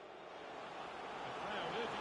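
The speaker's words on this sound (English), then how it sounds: "The crowd urging him to shoot" Stadium crowd in a football video game swelling into a roar, a broad sustained wash of noise that builds steadily and grows louder toward the end.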